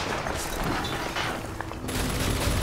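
Enemy gunfire in the shooter BioShock Infinite, a dense continuous rattle of shots and blasts that fills the whole moment with almost no talk.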